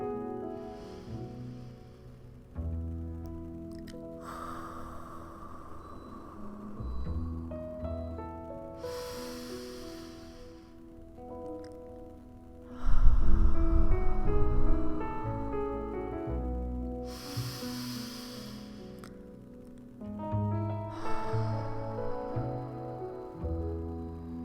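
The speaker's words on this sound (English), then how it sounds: "make sure you get a nice deep inhale and a nice deep exhale" Slow, deep breaths drawn in and let out during a guided meditation, soft airy whooshes in a relaxed rhythm over a calm sustained musical backdrop.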